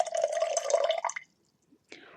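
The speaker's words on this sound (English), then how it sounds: "We pour that into a cocktail shaker." Cocktail ingredients, dry vermouth and cranberry juice, poured into a cocktail shaker, a close liquid stream splashing for about a second, then a short silence and a brief second splash.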